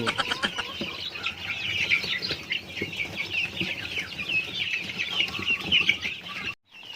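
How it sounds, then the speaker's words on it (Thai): Young chicks on a farm cluck and cheep continuously, many overlapping bird calls close by in a busy chorus, ending with a brief dropout. "แล้วเราเอาไปให้ลูกไก่กัน"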